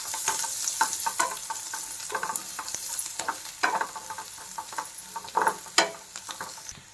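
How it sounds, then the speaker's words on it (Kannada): Spices and onion fry in a pan for a bitter gourd and onion curry, a steady close sizzle broken by repeated scrapes and taps of stirring, with no voices. "ಚೆನ್ನಾಗಿ ಫ್ರೈ ಮಾಡ್ಕೋಬೇಕು."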